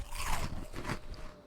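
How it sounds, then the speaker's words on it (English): Crunchy chips being eaten in the survival game Project Zomboid, a few close, crisp bites and chewing crunches in quick succession with no talk. "Let's go ahead and eat some healthy chips."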